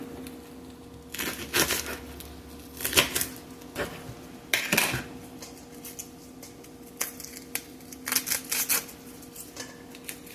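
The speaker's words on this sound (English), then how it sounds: "I'm going to chop these up here." A knife chops Brussels sprouts on a cutting board for a salad, sharp clustered knocks coming in irregular bursts with short pauses between them, close and moderately loud, with no talk.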